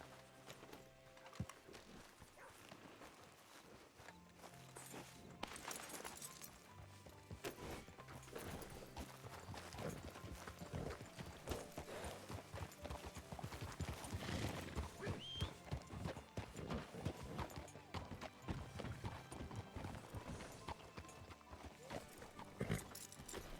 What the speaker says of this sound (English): Is that my horse? I'm gonna bring my horse over there.